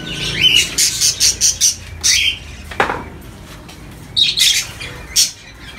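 Young rainbow and full-body greywing pet birds squawk in shrill, clustered bursts, close and loud, with a sharp click and a brief pause midway before another flurry of harsh calls.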